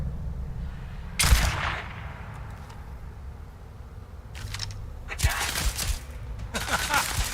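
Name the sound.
sniper rifle gunfire in the video game Starfield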